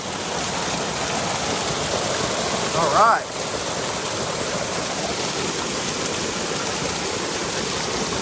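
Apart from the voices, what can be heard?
waterfall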